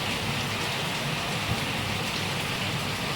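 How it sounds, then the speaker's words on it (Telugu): Steady rain pours down, a dense even hiss of drops hitting surfaces without a break. "వర్షం అయితే ఇలా ఉందండి"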